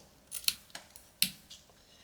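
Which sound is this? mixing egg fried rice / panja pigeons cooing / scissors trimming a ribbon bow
scissors trimming a ribbon bow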